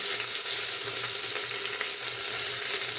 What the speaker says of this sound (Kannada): ಕರಿಬೇವಿನ ಸೊಪ್ಪು ಎಲ್ಲ ಫ್ರೈ ಮಾಡಿದ್ದೀನಿ